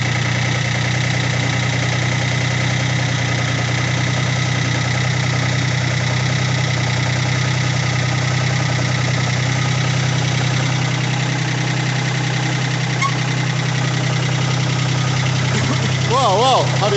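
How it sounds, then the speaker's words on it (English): A 1980 Kubota diesel tractor engine idles steadily and close by, a constant low rumble with a faint knocking texture that holds for the whole stretch. "There it runs, it sounds good. Nice little diesel motor"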